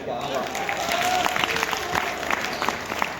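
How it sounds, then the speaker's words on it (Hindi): Audience applause at a live comedy show during a Siddharth Nagar festival, steady clapping from a large crowd that runs throughout, with a voice speaking over the clapping and scattered sharper claps standing out. "मेरी दुआ पर ताली ज्यादा उठाना"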